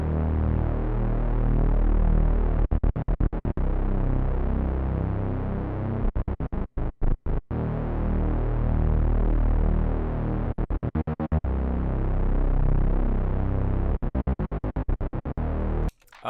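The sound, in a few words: hyperpop sub bass pattern tuned to the melody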